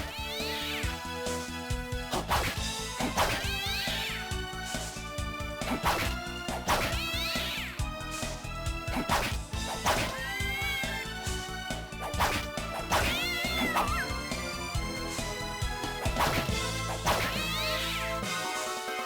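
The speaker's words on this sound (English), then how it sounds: "doesn't the Student Witch give you the ability to throw cats?" Repeated cat meows and smashing impacts come from thrown cats in the Nintendo DS game Castlevania: Dawn of Sorrow. They recur steadily over dense, continuous game music for about nineteen seconds, with no voices.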